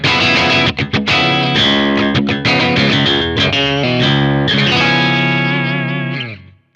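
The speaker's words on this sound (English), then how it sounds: "then we're going to split the humbucker in position 2" Electric guitar played through effects with its position-2 humbucker coil-split, giving a loud, dense run of distorted, chorused strummed chords and picked notes that ends on a sustained chord fading out; no voices.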